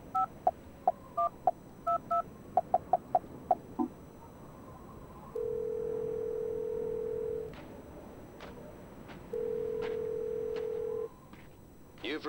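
Phone dialing a number in the video game Silent Hill Shattered Memories: a run of quick DTMF keypad tones, then two long ringback tones separated by a pause, with faint background sound between.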